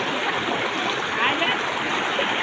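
Water rushes and burbles steadily in a stream near a waterfall at Parwanoo on the Shimla highway, a continuous close-up flow with no pauses.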